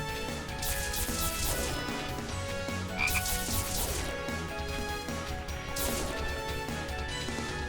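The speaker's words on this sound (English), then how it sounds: "we fight all the frogs in this field of frogs" Frogs croak in a field in the video game Youmu Hack and Slash. The croaks form a dense, steady chorus of rhythmic calls, with occasional impact hits mixed in.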